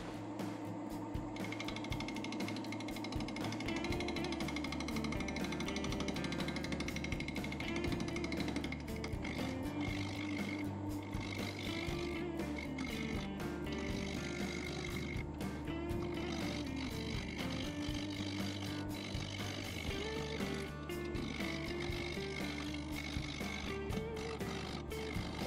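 Maple burl spinning on a wood lathe at about 750 RPM while a 3/8 inch bowl gouge cuts into it, giving a steady, droning, rumbling whir with a rhythmic wobble, continuous and close throughout.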